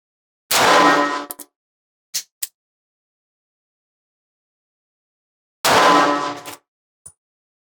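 A revolver fires single action at a challenge target on a range: two loud, sharp reports several seconds apart, each followed by a short ringing tail and a few small metallic clicks.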